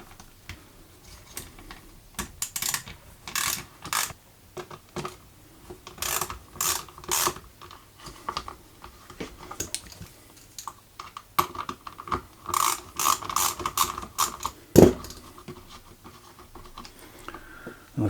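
Fasteners being undone on the security siren bracket of a 2007 Harley-Davidson Sportster, heard as a series of close, sharp ratcheting clicks in irregular bursts with short pauses, no talk.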